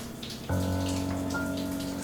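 A hot shower runs, its steady hiss and hum starting abruptly and continuing softly and evenly, with no voices.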